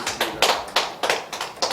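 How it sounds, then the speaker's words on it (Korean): Church congregation gives sharp, rhythmic applause at a Sunday praise concert, with distinct claps landing in a steady beat and no talking over them. "우리에게 은혜 주신 하나님께 영광의 박수 드리겠습니다."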